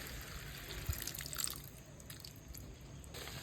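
Water is poured into a pan of potatoes and chicken liver sauteing on a gas stove, a soft close trickling and splashing that stays fairly faint and continuous.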